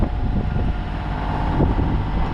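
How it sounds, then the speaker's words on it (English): Steady wind on a sailing boat rumbles and buffets against the microphone, a continuous low roar with no voices. "It's been quite windy today."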